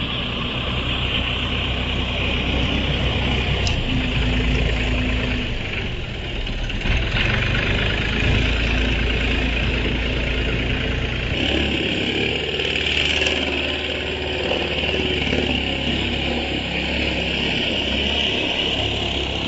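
Small snow-clearing mower engine running after pushing through wet, heavy snow, a steady close idling drone with a low throb that shifts in pitch partway through, alone without talk.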